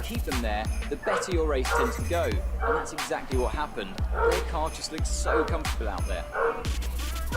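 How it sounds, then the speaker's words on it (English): A dog in the room gives repeated yips and barks in short irregular bursts, close and fairly loud, mixed with a whimper, while a voice talks over racing game sound from F1 2018. "I'm sorry if you hear my dog barking."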